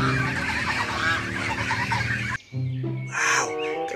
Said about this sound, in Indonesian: Di sini ada hewan angsa.